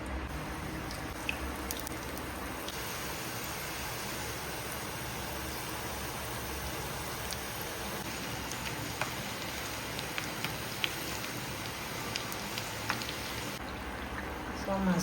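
Folded somas pastries fry in hot oil with a continuous, even crackling sizzle like steady rain, heard close and moderately quiet for the whole stretch.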